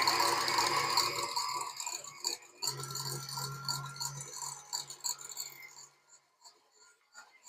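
A stand mixer runs in macaron batter, giving a steady mechanical whir and rattle with a low hum that fades and stops partway, leaving scattered clicks and scraping.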